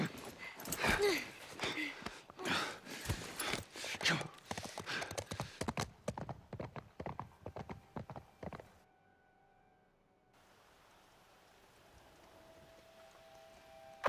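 Horse hooves clip-clop in a rapid run of close, loud strikes in The Last of Us Part 1 video game, then stop, leaving a quiet background tone.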